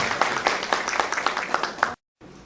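Audience applause greets a speaker arriving at a strategic-planning lecture, a dense patter of clapping hands with a few sharper peaks, breaking off abruptly and then resuming more faintly.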